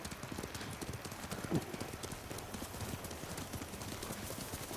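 A horse gallops at a steady, rhythmic clip-clop in the video game Ghost of Tsushima, the hoofbeats moderately loud and continuous over a faint ambient hiss.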